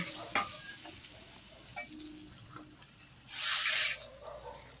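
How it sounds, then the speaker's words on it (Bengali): A rohu fish head frying in hot oil and being lifted out of the pan, with a soft steady sizzle and light scraping, then a brief loud hissing burst near the end. "মাছের মাথাটা ভাজা করা হয়ে এসছে এখন আমি এটাকে নামিয়ে নিচ্ছি"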